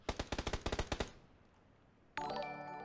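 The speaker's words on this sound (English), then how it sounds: "Tayfreak and Artalis putting shots down" Video game gunfire in a battle royale esports match: a rapid burst of about a dozen loud automatic shots, then a short quiet gap before a ringing electronic tone.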